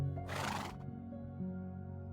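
A Minecraft horse gives a single short, bright whinny near the start, and a quiet background hum carries on after it.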